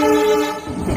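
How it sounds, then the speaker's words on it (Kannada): A goods train passes near Dudhsagar, its horn sounding in a sustained tonal blast over steady rolling rumble, close and loud with no talk. "ಇದನ್ನು ಲಗೇಜ್ ಟ್ರೈನ್ ಅನ್ಸುತ್ತೆ"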